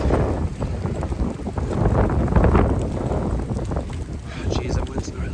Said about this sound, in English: that wind's gnarly